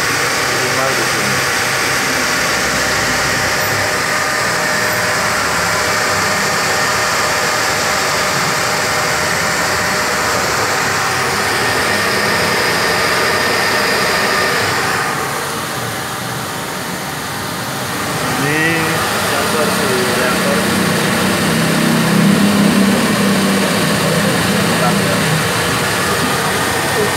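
A 2006 Toyota Innova with a 2.0L engine idles steadily up close while an HHO carbon cleaner runs on it. The hum is continuous, with a brief dip midway, and voices can be heard talking over it.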